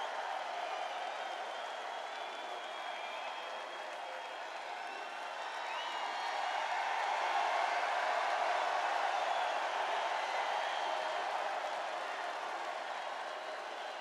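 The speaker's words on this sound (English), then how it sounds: "The people can hear the crowd." A Trump rally crowd in New Hampshire sends up a sustained, distant wash of cheering and applause, swelling louder midway before settling back to a steady roar.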